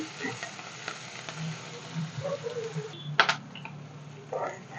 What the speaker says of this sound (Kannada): ಈರುಳ್ಳಿ ಸ್ವಲ್ಪ ಬ್ರೌನ್ ಕಲರ್ ಬರಲಿ ತಕ್ಕಂತ ಚೆನ್ನಾಗಿ ಫ್ರೈ ಮಾಡ್ಕೊಳ್ಳಿ